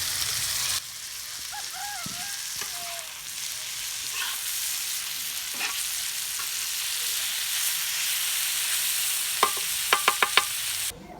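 Green chilies sizzling and frying on a tawa, a loud, steady crackling hiss, with a few metallic clinks and utensil taps against the pan near the end.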